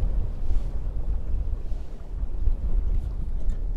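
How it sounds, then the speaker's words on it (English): Steady wind roars across a lake during a fishing trip, a broad low rumble with gusts rising and falling throughout, close and loud on the microphone, with faint water lapping beneath. "Man, this wind is kind of annoying."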